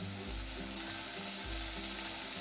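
Ground turmeric and chilli powder fry in hot oil in a pan for a jackfruit curry, giving a continuous close sizzle with soft stirring scrapes and no talk.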